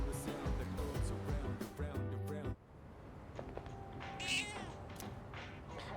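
A cat meowing in the video game Persona 3 Reload, a short game cry heard after a stretch of background music, fairly faint, with a person talking over parts of it.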